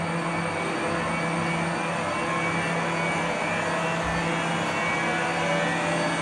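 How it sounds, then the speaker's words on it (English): A 1988 IBM 9332 mainframe hard drive, part of an IBM AS/400 system, spinning up its platters with a loud, steady mechanical whine and fan rush, a constant close drone without talking. "There she goes. The platters are starting up."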